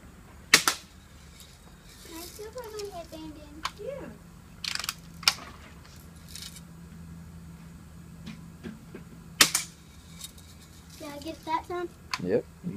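BB gun shots striking a target with a child present, sharp isolated cracks and impacts spread irregularly across the clip, with soft talk and background noise between them.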